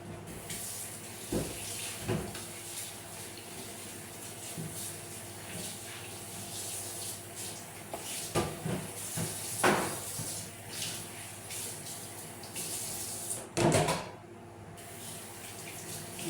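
Tap water runs steadily into a sink while dishes are washed, a constant close rushing with occasional clinks and splashes of handling and no talking.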